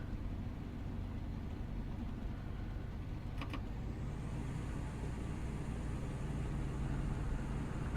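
A Class 156 diesel train in Train Simulator Classic eases away slowly from a stop on the Carstairs to Motherwell run, giving a steady low engine rumble. A brief hiss of brakes releasing comes partway through.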